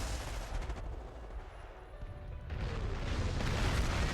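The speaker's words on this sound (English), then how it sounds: "76mm anti-tank gun killing this Duke with one shot." A 76mm anti-tank gun and rifles fire in a strategy video game, with dense overlapping shots and crashes, a short lull midway, then heavier gunfire building toward the end.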